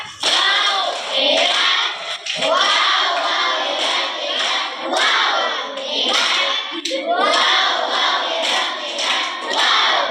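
A group of children at a catechism session chants loudly in unison with rhythmic clapping mixed in, energetic and close.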